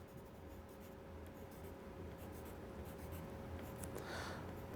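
A pencil draws a straight line along a ruler on 1/4-inch graph paper, giving a faint, continuous scratching stroke that runs steadily for several seconds with no talking.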